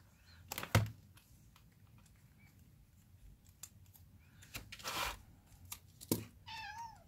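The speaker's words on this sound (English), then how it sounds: "My cat's meowing." A cat meows a few times, short high cries with a wavering tone, close by in a quiet room alongside occasional soft thumps and taps.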